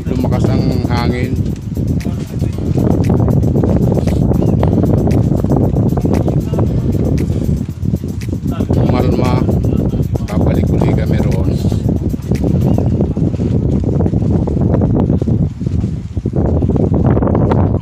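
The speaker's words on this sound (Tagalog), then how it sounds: "Lumakas ang hangin." Heavy gusting wind from an approaching storm buffets the microphone at a hut by the sea, loud and rumbling, while people talk beneath it.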